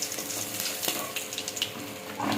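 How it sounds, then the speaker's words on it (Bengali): Bay leaves and black cumin seeds crackle in hot oil left from frying tangra fish, a close, lively sizzle with a few clinks of a utensil against the pan. "এবার দেব তেজপাতা"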